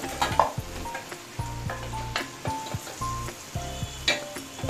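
Boiled, peeled potato chunks tumble into hot oil and masala in a pan, setting off a loud sizzle and frying hiss with spoon scrapes and stirring clatter in short bursts.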